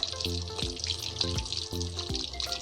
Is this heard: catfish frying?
yes